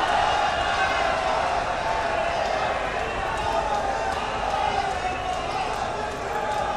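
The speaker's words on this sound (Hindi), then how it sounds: "जोरदार तालियां" Loud, dense crowd noise fills the whole stretch at a foundation stone laying ceremony for projects in Varanasi, a steady roar of applause and cheering from a large gathering with no pause.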